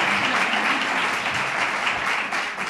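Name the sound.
audience applause at political candidacy presentation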